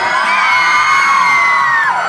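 A loud crowd screaming and cheering continuously, high-pitched shrieks blending into one sustained roar.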